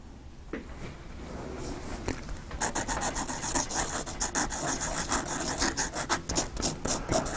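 A fountain pen nib edge being smoothed, heard as a steady close scratchy rubbing, faint at first and then turning into rhythmic back-and-forth strokes that grow louder and more rasping, with no talking.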